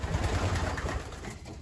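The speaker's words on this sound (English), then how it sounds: "now they're starting to fly out of their section" Young racing pigeons leave their loft section, giving soft coos and low fluttering up close in a short, busy burst.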